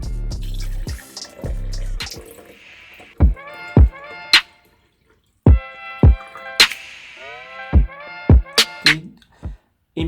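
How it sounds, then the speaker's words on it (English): Water being filled into a small VIOMI travel electric heating bottle: a steady pouring rush at first, then a series of bright, rising gurgles and plinks as the limited space fills, with short pauses between pours. "First, of course, you have to fill in the water"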